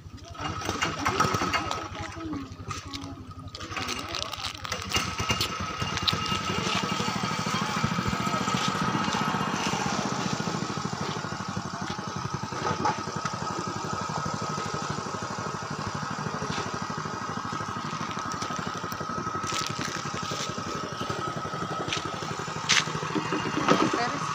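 A motorcycle engine idles on a flooded residential road, a steady mid-pitched rattling putter running continuously at moderate loudness, with people talking over it.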